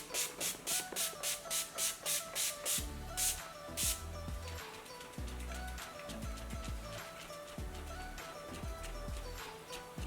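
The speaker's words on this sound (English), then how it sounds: "I'm gonna set my face with this Urban Decay De-Slick makeup set" Several quick bursts of Urban Decay De-Slick makeup setting spray misted close by in a rapid rhythm at the start, followed by softer handling noises.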